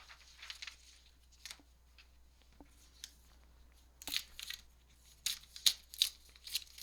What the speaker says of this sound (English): Okay, let me tear this up a little.